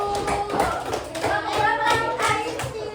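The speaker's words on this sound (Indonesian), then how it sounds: "Tepuk tangan buat kelompok 1." A class of children claps for a student group after a presentation on cleanliness during a supervised teaching session, uneven rhythmic clapping mixed with young voices and chatter nearby.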